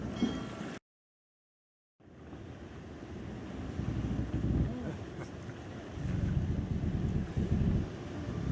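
Sailing ship at sea in the video game Witcher 3: after a brief dropout, steady wind and rushing water swell and surge continuously, with waves washing against the hull.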